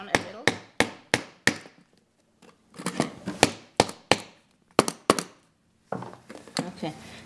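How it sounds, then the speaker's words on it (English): Repeated sharp hammer blows drive long staples into a wooden bar chair during reupholstering, coming in quick bursts of three to five close strikes separated by short pauses. "so you just have to hammer it down a little."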